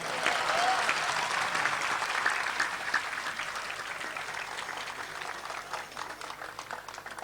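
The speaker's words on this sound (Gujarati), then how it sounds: "તાળીઓ તો પાડો યાર." Sustained applause from a large audience at a Gita Jayanti religious discourse, steady dense clapping that fills the hall and slowly thins over about seven seconds, with no talking over it.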